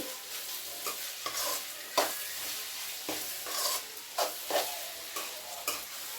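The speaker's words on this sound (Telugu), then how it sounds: "ఫ్రై అయితే ఒకసారి కలుపుతాను చక్కగా ఫ్రై అవుతుంది" Grated beetroot and carrot with a little salt fry in a pan, a continuous gentle sizzle broken by regular spatula scrapes and stirs, close and fairly quiet, with no voices.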